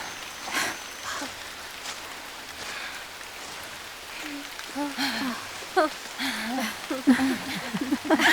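Steady rain hisses in the background while voices talk over it.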